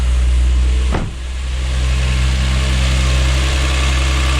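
Lexus IS200 fitted with a turbo, engine catching on its first start with a sharp burst and then settling into a steady, close, rumbling idle.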